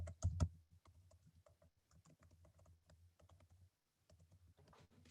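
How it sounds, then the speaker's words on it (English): Rapid, quiet keystrokes patter on a computer keyboard as someone types text into a chat, a close, even run of clicks with one brief pause, and no talking. "I'm typing that into the chat right now"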